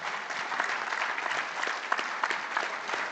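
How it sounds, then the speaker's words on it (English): A conference audience at the Africa Construction Law Conference gives a panel a warm, sustained round of applause, dense steady clapping from a full room with no talk. "If you could give a warm round of applause to this panel."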